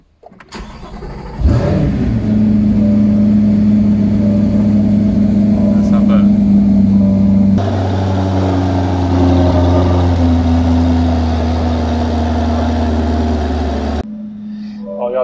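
A Chevrolet Corvette C8 fires up with a loud crank, then settles into a steady rumbling idle with a rising rev partway through, close by, and it cuts off near the end.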